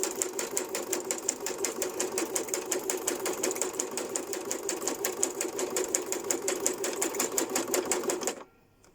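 A sewing machine runs a zigzag stitch through cardboard scraps, a steady fast mechanical chatter of even needle strokes lasting about eight seconds before stopping abruptly into quiet.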